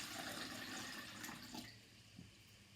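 Water gushes out of a short, wide cup in a brief, soft pour that drops away at the end, with a small splash near the close.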